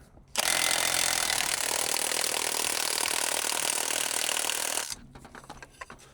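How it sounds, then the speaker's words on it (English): An AGM manual jack lowers a Kawasaki H2 with a loud, continuous rushing mechanical whir lasting about four and a half seconds, stopping abruptly and leaving faint clicks and handling noises, with no talking. "with all the lugs tight, I can lower the jack"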